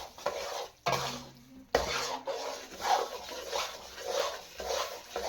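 Roasted gram flour (besan) and sugar are stirred in a pan, giving soft, repeated scraping and rustling strokes with a few sharp metallic clinks of a spoon against the pan, close and steady.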